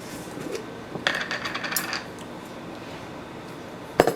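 Metal spoons clink and clatter in a home kitchen, a quick burst of bright jangling taps followed by a single sharp clink a couple of seconds later.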